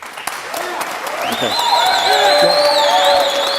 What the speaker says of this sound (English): If we could keep the applause to the end, we'd really appreciate it.